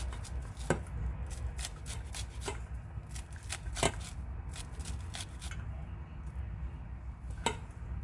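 An ingredient being grated while preparing Jamaican roast fish, a series of short sharp scraping strokes in an irregular rhythm, close by and fairly quiet against a low background hum.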